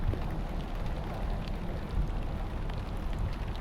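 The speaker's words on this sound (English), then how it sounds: "Raining big old drops, that's for sure." Steady heavy rain with big drops falls outside a newly built house in a housing development, a dense continuous patter filling the whole stretch with no talking.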